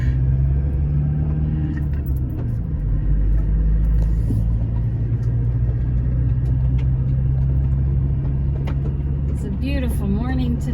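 A car drives along an empty road on a morning run, its engine giving a steady low rumble close up, with someone talking over the drone throughout.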